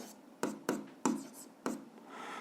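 Pen strokes on paper come in five short, sharp scratchy bursts at an uneven pace, close and fairly quiet, during an algebra exercise being worked out by hand.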